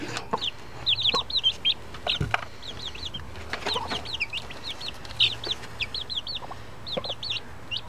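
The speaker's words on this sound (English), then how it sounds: "I was pleased to see that the adorable little chickens have grown." Chickens cluck and peep continuously nearby, soft chattering calls scattered over a quiet outdoor background.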